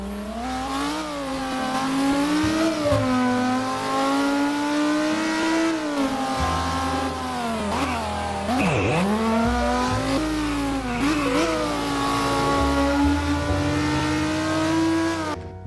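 Engine of the Green Hell Edition GT car in the video game Midnight Chasers, revving loudly and continuously with rising and falling pitch sweeps, including a sharp dip and climb midway, heard alone without talk.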